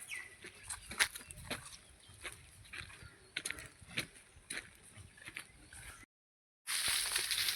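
Scattered clucks and calls of many chickens in a poultry farm shed, fairly faint and irregular, with a brief silence followed by a burst of noise.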